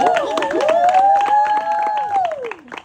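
An audience on stage welcomes a speaker at a goal-setting event: scattered clapping runs under a long, rising-then-falling vocal cheer that trails off near the end.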